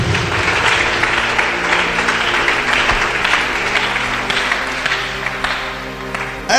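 Church congregation applauding and cheering during a sermon, dense sustained clapping mixed with crowd voices, loud and close throughout.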